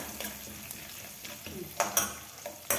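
Peanuts fry in hot oil in a pan, giving a steady sizzle broken by several sharp spluttering pops toward the end, heard up close with faint speech in the background.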